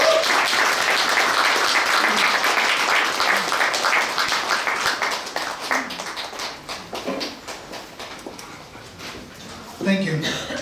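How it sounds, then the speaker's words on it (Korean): Crowd applause welcoming a guest speaker onto the stage at a seminar on North Korean restoration and reunification, a dense wash of clapping that thins out and fades over the second half, with a few voices starting near the end. "우리 데럴 나오실 때 큰 박수로"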